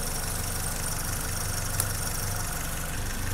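A 1984 BMW E30 318i engine idles steadily during a tune-up, a close, even mechanical hum with a low rhythmic pulse and no revving, running alone without talk.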